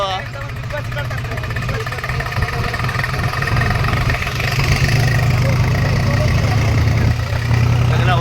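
A tractor engine drones steadily as the vehicle travels slowly on a 30-kilometre road trip, a continuous low rumble that holds throughout with faint background noise.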